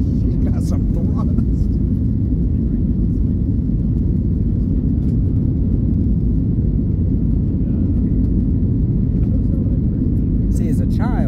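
A passenger airliner's jet engines roar loudly and continuously during takeoff, a dense low rumble heard from inside the cabin, with brief voices and faint cabin noises over it.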